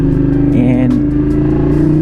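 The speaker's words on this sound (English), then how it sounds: "now with the exhaust, the sound matches the looks of the bike" A Ducati Streetfighter V2 motorcycle with an aftermarket exhaust idles loud and close, its deep, steady throb briefly rising in a short rev before settling back to the same rumble.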